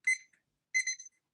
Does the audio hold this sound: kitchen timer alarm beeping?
yes